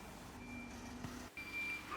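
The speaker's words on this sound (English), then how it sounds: "here is the concrete truck coming in" A concrete truck backs along a narrow road at a building site, its reversing alarm sounding a steady high-pitched tone over the low rumble of the engine.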